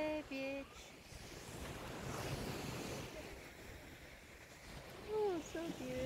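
Ocean surf at Haeundae Beach in Busan on a cold day, a broad steady wash of waves with wind noise on the microphone, while people talk briefly at the start and again near the end.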